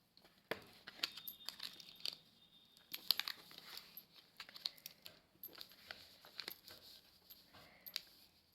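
Tarot cards are arranged by hand, giving faint, close, irregular taps, slides and soft clicks of card stock against a surface, with no voices.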